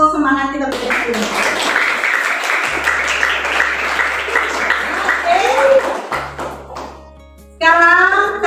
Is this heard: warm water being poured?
no